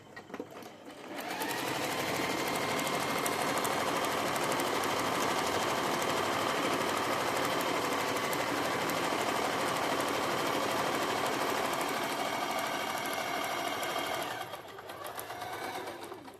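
A sewing machine runs steadily with blue thread, stitching a straight-line design on a salwar cuff; the loud, continuous motor whir and rapid needle chatter start after a second and ease off near the end.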